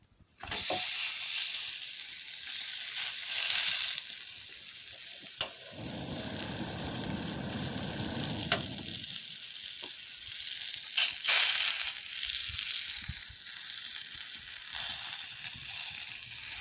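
Finger millet roti sizzles on an oiled griddle: a burst of frying hiss and crackle swells for a few seconds, then fades back to quieter kitchen background with occasional clinks.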